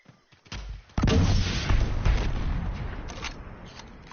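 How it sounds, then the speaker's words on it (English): A flashbang grenade bursts in the game Predator Hunting Grounds, a sharp crack followed by a loud, sustained blast of noise that slowly fades over a few seconds, preceded by faint clicks. "Tossing flashbang."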